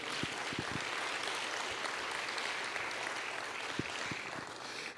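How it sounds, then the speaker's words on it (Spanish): Church congregation claps during a sermon, a continuous, fairly faint spread of applause with a few low thumps scattered through it. "déle un aplauso fuerte al Señor"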